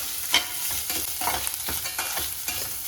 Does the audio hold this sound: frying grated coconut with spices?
yes